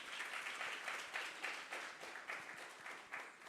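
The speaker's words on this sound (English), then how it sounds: "I think you deserve a big round of applause" Steady, fairly quiet applause from a conference audience at an HR conclave on impact hiring in Bangalore, a dense patter of many hands with slight swells and no talk over it.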